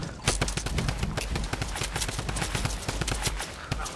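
Gunshots fired at a target in an online shooter video game, a fast string of repeated shots close up, fairly quiet overall, over a busy background of game noise.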